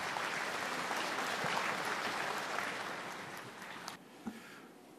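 An audience at a Buddhist ceremony claps in sustained, dense applause that gradually thins and tapers off into a few scattered claps.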